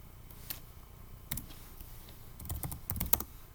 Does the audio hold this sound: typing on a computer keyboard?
yes